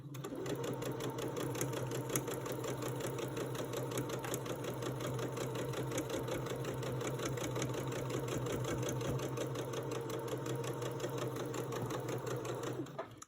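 A sewing machine runs steadily and close up, stitching quilt pieces along a leader strip in one continuous hum with a fast needle rhythm, stopping right at the end.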